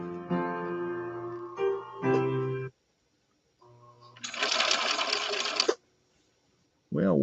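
A 1970s Viking Husqvarna 6030 sewing machine stitching a green cam B stitch, in loud motor bursts broken by short pauses, the last and noisiest stretch about a second and a half long.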